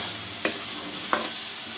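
Potatoes and peas sizzle steadily in a pan for pea masala, with two distinct stirring scrapes cutting through the constant frying hiss.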